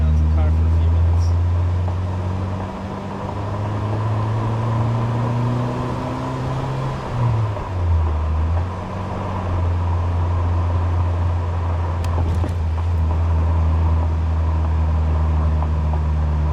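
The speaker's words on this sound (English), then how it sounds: "Let's let you hear the sounds of the car for a few minutes." A 1996 Mitsuoka ZERO1 cruises city streets on a cold, nearly clear night, its engine a steady low hum heard from inside the cabin that dips briefly as the car shifts, then settles back into an even drone.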